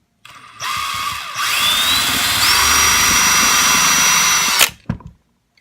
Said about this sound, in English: we'll start out slow and see if it slips out of the drill